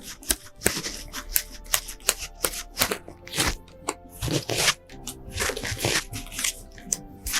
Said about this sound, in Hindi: आइए निकालते हैं 3 कार्ड्स।